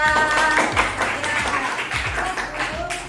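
Students in a classroom clap for a classmate after she solves a trigonometry problem, a short burst of scattered hand claps close by with a voice speaking over it.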